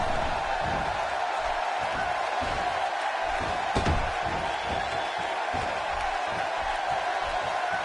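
A Dallas arena crowd in a wrestling video game roars in a steady, dense wash of cheering that stays loud throughout, with faint commentary mixed underneath.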